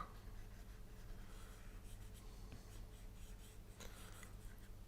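An Apple Pencil draws a tree trunk on an iPad Pro screen, giving faint soft tapping and light scratchy strokes against a steady low background hum, with no talk.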